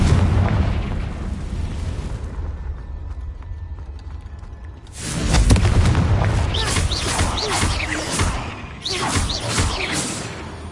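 A Confringo fire spell explodes in Hogwarts Legacy, a deep boom erupting into a loud, crackling burst that rolls on for several seconds after a quieter stretch of rattling mechanical clicks.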